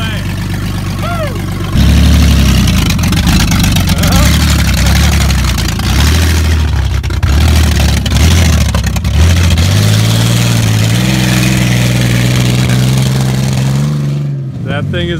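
A Saturn car's engine idles and then revs, its pitch rising and holding high toward the end, while jumping a Blazer. The sound is loud and close, with people talking over it.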